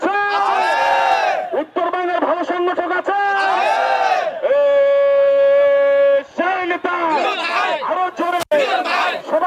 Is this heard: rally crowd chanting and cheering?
yes